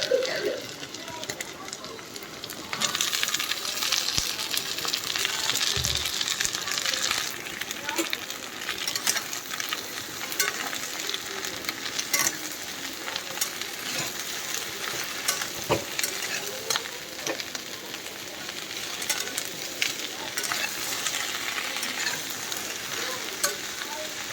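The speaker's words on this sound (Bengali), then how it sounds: "চিচিঙ্গা ভাজা এইখানে" Ridge gourd (chichinga) frying in a pan, a steady close sizzle running throughout with occasional scrapes and clinks of stirring, under light household background noise.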